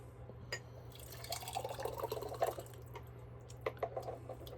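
Liquid is poured steadily over a towel for a couple of seconds, a soft close splashing and trickling that ends in a few faint drips.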